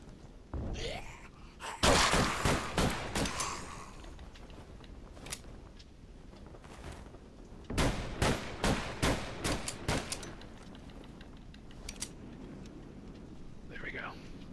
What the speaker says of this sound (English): Maybe I just have to shoot and reload one.